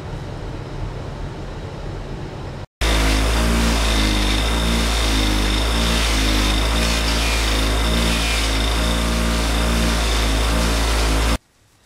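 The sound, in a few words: power polisher polishing motorcycle parts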